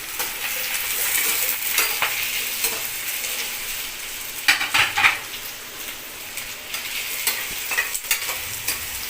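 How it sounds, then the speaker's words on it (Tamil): Two large finely chopped onions sautéing in a pan for rava dosa chutney, a steady close sizzle with stirring scrapes and a few louder utensil clatters near the middle, no talk. "ஒரு 2 பெரிய சைஸ் வெங்காயத்தை பொடிசாக கட் பண்ணியிருக்கு. இதுலேயும் அதில் லேசாக வதக்கிடணும்."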